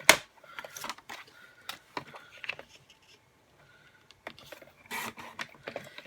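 Whisper White cardstock is trimmed to size on a paper cutter: sparse scraping slides and crisp cutting strokes arrive in irregular bursts with quiet gaps between, close up and fairly soft.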